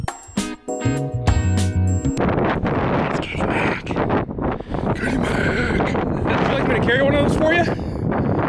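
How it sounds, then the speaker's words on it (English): Strong wind batters the microphone at a Brooklyn campsite, roaring and gusting in loud, rumbling waves through most of the stretch, while voices talk over it and small jingling sounds come and go. "It is extremely windy"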